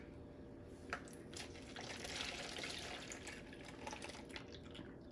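Dissolved gelatin for a three-ingredient peach dessert poured from a kitchen vessel into a container, a soft steady liquid trickle with faint splashes and drips, fairly quiet and without speech.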